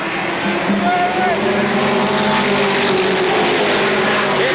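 Race cars roar at full speed around the Motordrome Speedway oval in 1992, a loud continuous engine drone with shifting pitch as the pack passes, under a commentator's voice.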